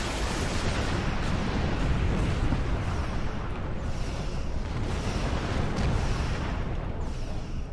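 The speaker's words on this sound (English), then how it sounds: "the explosion effects have really improved over time" Continuous roaring explosions and rumbling blasts from a Star Trek Online space battle, loud and dense throughout with no pauses, heard alone without voices.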